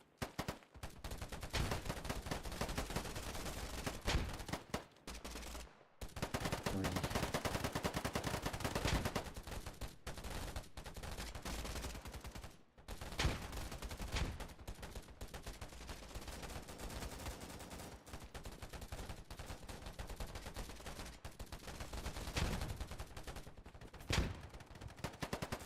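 Loud, sustained automatic gunfire from the video game Whisper Mountain Outbreak rattles in long rapid bursts, broken by a few brief pauses.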